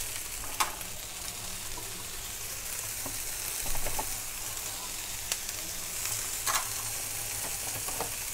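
Tomatoes frying in a pan with ginger, garlic and onion give a steady, close sizzle, with a few sharp crackles and spatters scattered throughout.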